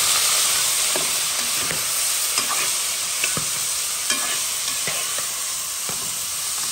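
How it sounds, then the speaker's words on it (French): Ham for rougail fries in a pan with a constant loud hiss, punctuated by sharp pops and crackles at irregular intervals, close and without talk. "Tu entends le jambon, écoutez comment ça pète."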